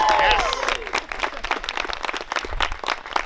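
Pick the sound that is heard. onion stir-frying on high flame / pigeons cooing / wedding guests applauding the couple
wedding guests applauding the couple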